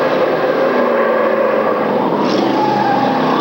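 Race cars hold a loud, steady engine roar on an oval track in the closing lap, a continuous droning wash of motors with no clear pass-by.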